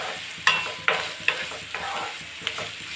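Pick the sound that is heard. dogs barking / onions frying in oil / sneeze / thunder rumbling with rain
onions frying in oil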